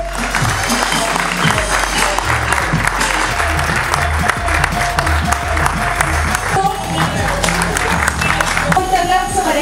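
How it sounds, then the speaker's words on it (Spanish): Crowd applause and cheering for the winning team of three women at a mountain bike race, a loud, sustained wash of clapping outdoors with an announcer talking over it throughout. "Oficial, un fuerte aplauso para este equipo."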